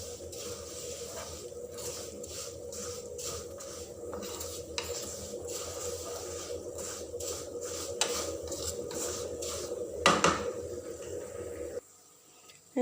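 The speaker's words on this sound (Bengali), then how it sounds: "তো এই সেমাইটা আমি হালকা না, ভালো করে ভেজে নিব, একদম চকলেট কালার করে ফেলবো।" Vermicelli (semai) fries in a pan until browned, a continuous low sizzle under repeated scraping strokes of a spatula against the metal, with a louder clatter near the end before it cuts off.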